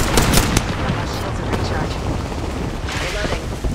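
Rapid gunfire in a video game, dense bursts of shots and impacts throughout, loud and continuous, with someone speaking over the action.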